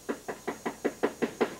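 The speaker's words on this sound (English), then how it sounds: "They knock on the front door," Knuckles rapping on a front door of a house, eight evenly spaced sharp knocks in quick succession at close range, with no voices.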